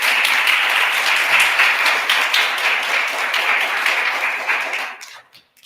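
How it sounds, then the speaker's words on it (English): Audience applause at a Kid Governor inauguration ceremony, a dense sustained burst of clapping from a crowd that holds steady for about five seconds before tapering off to a few scattered claps. "Let's give them a big round of applause."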